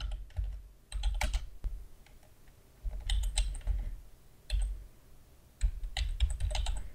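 A computer keyboard typed on in quick bursts of close clicking keystrokes separated by short pauses, with no voices, while a name is entered into AutoCAD.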